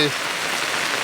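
Heavy village rain keeps up a loud, unbroken hiss, a brief voice fragment cutting off at the very start.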